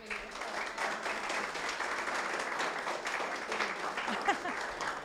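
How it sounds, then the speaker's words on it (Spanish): Audience at a literary reading event applauding, a dense, continuous patter of many hands clapping at moderate distance, with faint voices mixed underneath. "un aplauso para Lubezka"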